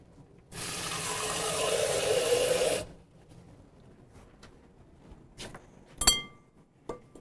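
Water pouring steadily for about two seconds into a granola crumb crust mixture for a cheesecake, followed by quiet kitchen handling and a sharp clink near the end.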